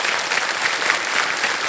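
A studio audience on a televised quiz show claps steadily throughout, a dense, even wash of applause at moderate distance with no talk over it.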